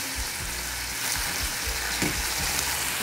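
Meat with tomato sizzles in a pan on a home stove for lunch, a steady close frying hiss with soft low thumps, no talking.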